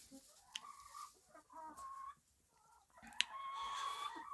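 Chickens cluck softly and intermittently in a farmyard with a concrete floor, several short, close calls with quiet gaps between them.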